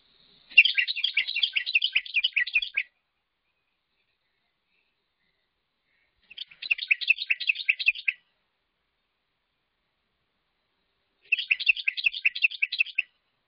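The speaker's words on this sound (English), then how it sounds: "That's the normal song of the Carolina wren that I call the tea kettle." Three bursts of a Carolina wren's bright, rolling tea-kettle song, each a rapid run of repeated chirpy phrases lasting a couple of seconds, separated by long silent gaps.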